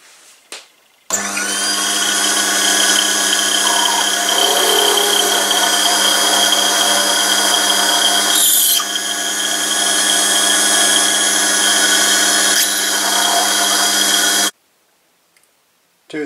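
A drill boring a 3.4mm hole into the end of a model half axle, running as one loud continuous whine for about thirteen seconds, then stopping abruptly.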